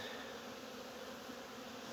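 Honey bees swarm around a hive in late October, drawn by the smell of sugar syrup, making a faint, steady, continuous buzzing hum with no break.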